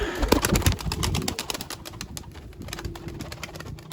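Tumbler pigeons coo in a close, repeated series of soft throaty calls, mixed with sharp clicks and rustles from the birds nearby.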